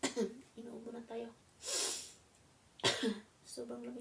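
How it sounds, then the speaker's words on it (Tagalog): A person coughs in cold weather: two harsh, breathy coughs burst out between short stretches of the same person talking, close to the microphone. "Inuubo na tayo."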